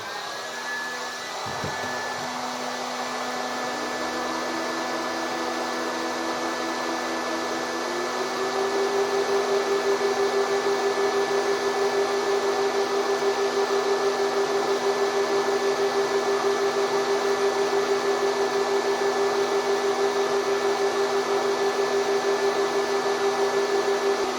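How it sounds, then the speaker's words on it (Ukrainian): A steady whirring drone of a hair dryer and an electric oven running together, loud and continuous, with a hum that rises and thickens partway through. "Буду втикати духовку і фен вмикати одночасно."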